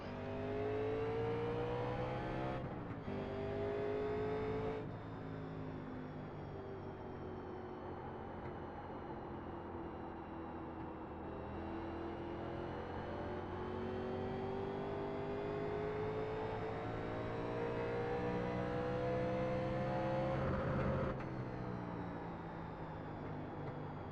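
A 1987 NASCAR stock car in the iRacing simulator snarls at high revs, with downshifts and braking dropping the engine pitch before it climbs again, loud and continuous throughout with no talk.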